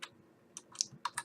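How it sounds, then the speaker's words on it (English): A few scattered keystrokes on a computer keyboard while using Scrivener writing software on Windows, soft and close, with short pauses between clusters of clicks. "simply start typing while that text is still highlighted in blue"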